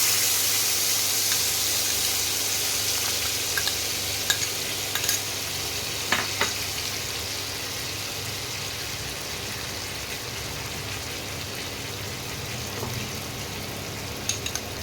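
Fish sizzling in a pan after a paste of sour yogurt, cumin, coriander and fennel is stirred in, giving a continuous hissing fry with occasional light clinks and scrapes, heard up close with no talking.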